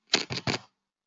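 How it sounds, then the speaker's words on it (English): Three quick clicky taps on a computer keyboard, entering text into maths software, crisp and close with nothing else around them. "So I just start typing"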